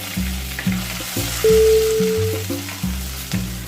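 Fenugreek and curry leaves frying in hot oil for a sardine chilli curry, a loud continuous close sizzle with a faint rattle of stirring underneath.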